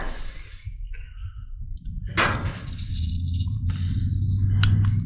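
A carving knife makes a relief cut in wood during face carving: scattered dry clicks and scraping ticks, with one sharper snap midway and a brief crack near the end, close-up and fairly quiet.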